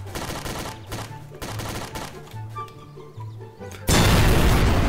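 Pistol gunfire in the video game Garry's Mod, a series of sharp booming shots in an irregular rhythm with echoing decay, followed by a sudden loud burst of noise at the end.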